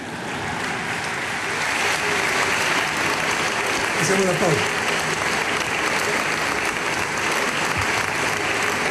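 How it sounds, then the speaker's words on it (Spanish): A large audience applauds steadily through a national annual report address by the president, the dense clapping holding loud for the whole stretch while a voice briefly speaks over it. "bueno, aplaudan nomás, no se preocupen."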